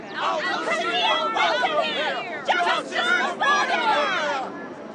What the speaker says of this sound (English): A crowd's comes in and they do not look happy.